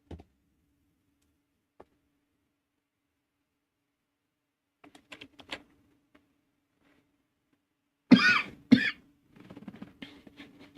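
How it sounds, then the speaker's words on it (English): A person coughs in a quiet room during a live stream: a couple of sharp, loud coughs in quick succession, preceded by faint clicks and followed by softer throat noises. "Sorry for the coughs."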